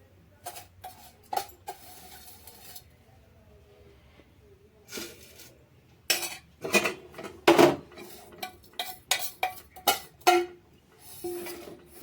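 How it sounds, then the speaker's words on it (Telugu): Cooking pots and metal utensils clank and clatter while semiya (vermicelli) is prepared in a small vessel, coming in sharp intermittent bursts with quiet gaps and a denser flurry of clinks near the end, with no voices. "కొంచెం గిన్నెల సౌండ్ వస్తుంది"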